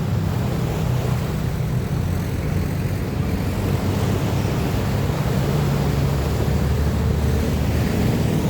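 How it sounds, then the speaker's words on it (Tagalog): Sea waves lap against a coastal road in Davao City, a steady, broad wash of surf mixed with wind rumble, continuous and fairly near, with no voices. "ang ganda ng ano, ng tunog ng dagat, tubig na yun na nga dumadampi"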